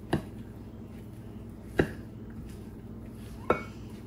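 Rice and mushrooms are mixed in a bowl, heard as three quiet, sharp utensil knocks spaced evenly apart against a soft background hum, with no talking.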